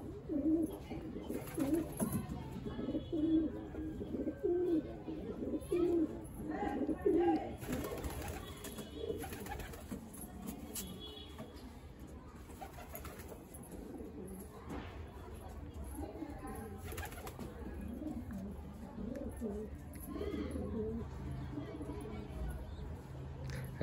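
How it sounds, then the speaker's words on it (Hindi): Pigeons coo repeatedly in a busy loft during mating behaviour, with a male pursuing hens amid steady fluttering and shuffling noise and someone talking throughout. "देखिए पागल हो चुका है हमारा कबूतर।"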